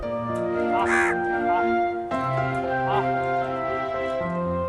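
A crow caws repeatedly, its harsh calls rising over a busy outdoor scene with steady background noise and someone speaking throughout.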